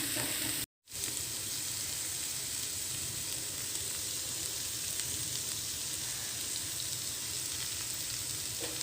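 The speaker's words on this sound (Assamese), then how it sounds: "এতিয়া অলপ সময় এই কলডিলখিনি ভাজি লম" Chopped banana flower fries in a pan with salt, giving a steady, close sizzle that runs unbroken apart from a brief cutout near the start, with no talk.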